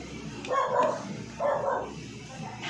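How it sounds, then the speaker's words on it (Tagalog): A dog barks in two short bursts, moderately near, over a quiet background with faint room noise. "Medyo maingay ating mga aso dahil may tayo bisita."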